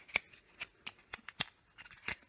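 A Veto pipe slice clipped over plastic waste pipe and spun around to cut it, giving a run of sharp, close clicking ratchet snaps at an irregular rhythm with no talk.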